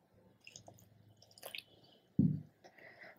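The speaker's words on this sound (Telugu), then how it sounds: "వాటర్ పోస్తాం." Water poured into raw banana bajji batter, a few soft squishing drips followed by one louder wet splash and stirring, close and quiet.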